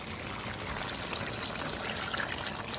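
About a cup and a half of water pours into a pot of goat stew, a soft steady trickle and splash lasting a few seconds at low volume, heard close with no talking.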